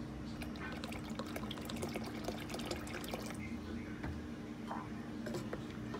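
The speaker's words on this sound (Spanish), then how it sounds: "Ahora le voy a echar un poquito más de leche." Milk is poured into a pot of sweet beans for habichuelas con dulce, a steady close liquid trickle with light splashing that runs throughout, with a soft voice faintly underneath.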